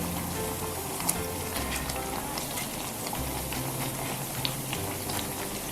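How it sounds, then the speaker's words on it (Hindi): Eggplant and potato pakoras coated in besan batter deep-fry in oil over medium heat, giving a dense, continuous bubbling sizzle with a few sharper pops, steady and close with no talking. "अब हम इनको चेक करेंगे कि ये फ्राई हो गए"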